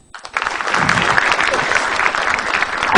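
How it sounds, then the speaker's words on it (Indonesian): Applause erupts from the audience at an Indonesian stand-up comedy show, rising quickly after a short pause into loud, sustained clapping that holds steady to the end, with faint crowd murmur mixed in. "Tepuk tangan lagi deh"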